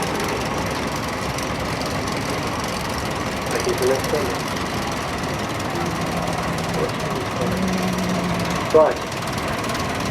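Nuffield tractor engines run steadily in a display ring at the Great Dorset Steam Fair 2012, a continuous loud idling rumble throughout with brief voices over it.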